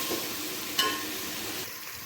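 Veg biryani base with coriander, turmeric, chili powder and biryani masala sizzling steadily in a hot pan while being stirred, with one brief scrape or clink of the spoon partway through; close and continuous, no voices.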